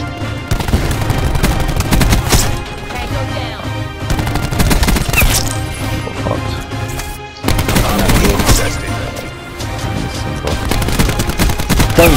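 Dense, loud bursts of automatic gunfire from Call of Duty Black Ops 4 multiplayer fill the whole stretch, with rapid rattling volleys that break off briefly around the middle.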